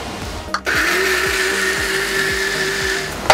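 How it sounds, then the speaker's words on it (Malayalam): A mixer grinder grinding a paste with water for Kerala pachadi: a click, then a loud, steady, high motor whir that runs without a break and ends with a clunk. "ആവശ്യത്തിനുള്ള വെള്ളം ഒഴിച്ചിട്ട് നമ്മൾ അരയ്ക്കുന്നു."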